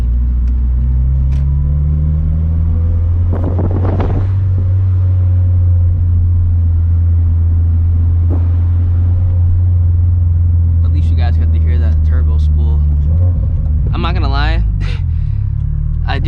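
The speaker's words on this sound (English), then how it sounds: "I mean, I am driving the car pretty slow, like not hard at all" Turbocharged Scion FR-S driving slowly, a steady low engine rumble and drone heard from inside the cabin, with a voice talking over it throughout.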